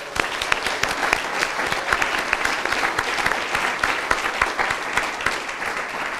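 An event audience applauds loudly and steadily for several seconds, a dense wash of clapping hands with no voices over it.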